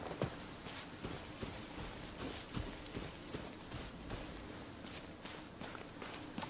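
Steady rain falls in Genshin Impact, a continuous broadband hiss over the whole stretch with scattered soft patters and footstep-like taps, moderately loud and without speech.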